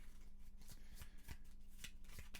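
Cards shuffled for a Gloomhaven board game: a string of quick riffling crackles and soft taps, close and moderately loud, with no talking.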